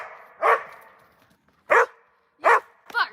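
Small dog barking outdoors near a remote cabin: four sharp, separate yaps spaced about a second apart, close and fairly loud, with no other sounds between them.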